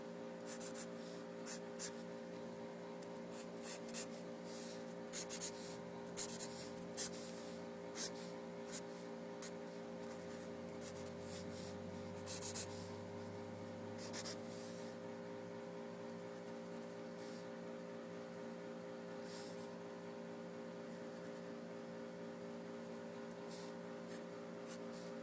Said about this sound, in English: whenever I sketch a Batman, I leave it a little messy for whatever shading may come after